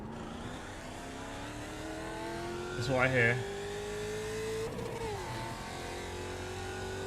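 Race car engines drone steadily in iRacing at the Zolder circuit. A whining engine tone climbs slowly through the gears under a voice speaking.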